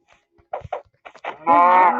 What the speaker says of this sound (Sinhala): තව හරකෙක් ඉන్නවා වගේම සද්දයක් ඇසෙනවා